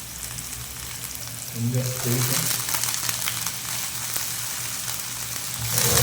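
Curry leaves hit hot oil in a pan of potato paruppu kuzhambu, giving a steady close sizzle that swells midway and again at the end, with a voice briefly speaking over it.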